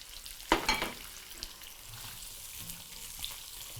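Onion stir-frying in a Breville Hot Wok BEW600XL electric wok, giving a soft steady sizzle after one brief clattering burst as the onion goes in, fairly quiet overall.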